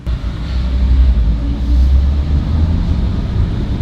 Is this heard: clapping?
no